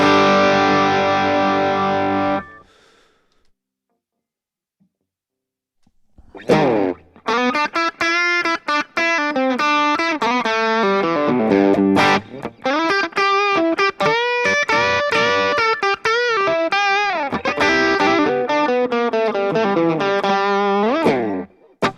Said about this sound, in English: It's a good all-around reverb.